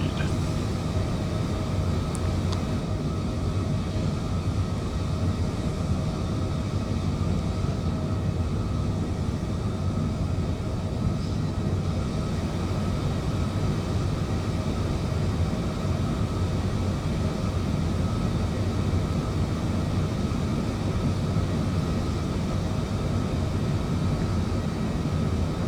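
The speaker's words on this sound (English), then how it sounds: "Airplane's going to pitch down and accelerate to its climb speed." A Boeing 787-10 airliner climbing in Microsoft Flight Simulator gives a steady, unbroken low engine and cabin drone that holds at an even level throughout, with no talking.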